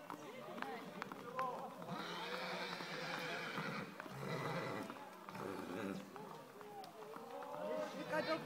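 A horse neighs and whinnies with hoofbeats and running nearby at a Christmas gathering in Beška, the calls rising over steady crowd chatter and people talking throughout.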